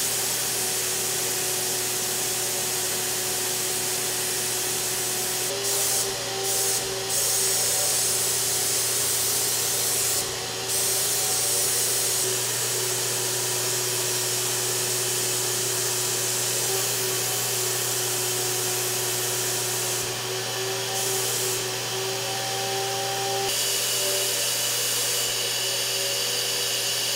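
A sprayer applies a coat of finish inside a great room during a home renovation, giving a steady, loud hiss that runs without a break, with brief bursts and short pauses along the way and no talking.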